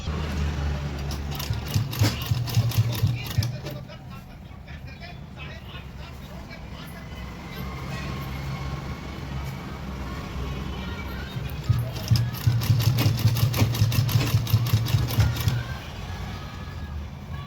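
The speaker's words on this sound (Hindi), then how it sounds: "इस तरीके से पट्टी फोल्ड करके सिलाई लगा देनी है" A sewing machine stitching the folded strip on an umbrella gown: two bursts of rapid, even needle clatter, one early and a longer one later, over a low steady motor hum in a quiet room.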